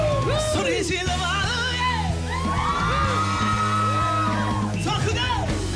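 A live concert audience yells, whoops and cheers loudly and continuously while music plays, with the crowd noise dense and close throughout.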